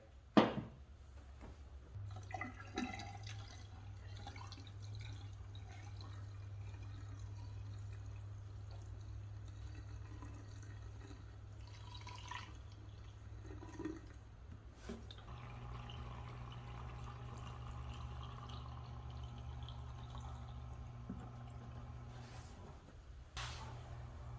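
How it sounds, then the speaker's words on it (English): Water poured into a car engine, a long, steady, quiet stream with faint trickling and dripping that carries on for over twenty seconds, with no talking. "So, I'm going to dump water in this thing."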